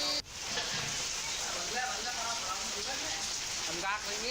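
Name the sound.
rain falling, with thunder, in Jaipur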